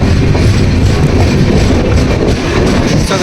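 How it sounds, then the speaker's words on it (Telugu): Samata Express passenger train running on the line in Chhattisgarh, a loud steady rumble of wheels and carriages with faint rhythmic clatter, continuous and close throughout, no talk. "ఇప్పుడే ఛత్తీస్గఢ్ మోస్మండ్లో అయితే స్టార్ట్ అయింది ట్రైన్"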